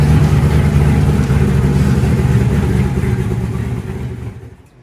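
A Chevy Nova's engine rumbles steadily at close range as the car rolls into a driveway, a thick low idle that fades away over the last second.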